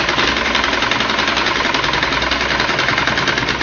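A sewing machine stitching a skirt runs loud and continuous, its needle rattling in a fast even rhythm close by, alone without any talk.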